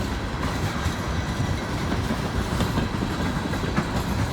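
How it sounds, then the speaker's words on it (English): A train rolls by on a restored railroad track near a wye, giving a loud, continuous rumble with rhythmic wheel clatter and no one speaking. "That track right there, the train's on just on the other side."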